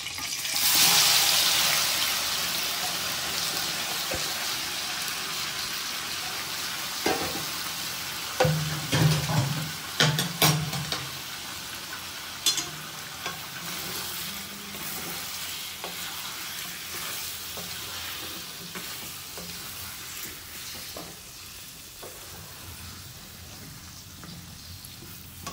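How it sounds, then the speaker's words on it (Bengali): Half-boiled mutton goes into hot oil in a pan and is stirred, giving a steady close sizzle with intermittent scraping and clattering stirs, loudest early and settling into a continuous frying hiss. "এবার তেল গরম হয়ে গেছে, এবার মাটনটা এর মধ্যে দিয়ে দিচ্ছি।"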